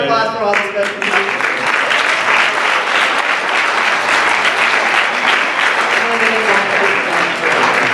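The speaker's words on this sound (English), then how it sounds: "Give her a round of applause for all the specialties." Audience applause at a lighthearted award show: loud, sustained clapping from a crowd, with brief voices audible at the start and again near the end.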